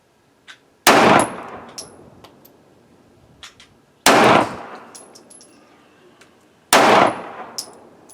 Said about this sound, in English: let's go and run some 115 grain full metal jacket